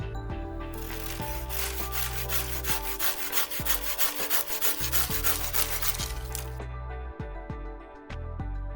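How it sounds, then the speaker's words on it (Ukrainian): A Kamaki L-24 Japanese garden hand saw cuts through wood in quick, rhythmic back-and-forth strokes, close and clear, then slows to a few separate pulls at the end. "Зараз подивимося, як ця пила ріже."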